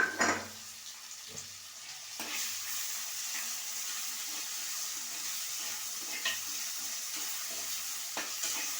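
Tomatoes with a little salt fry in a pan for papaya sambar, giving a steady close sizzle with occasional stirring clinks and scrapes and no talking.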